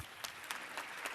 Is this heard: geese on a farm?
no